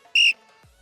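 A coach's whistle is blown once during a group football line drill, a short loud shrill blast of about a fifth of a second, followed by quiet.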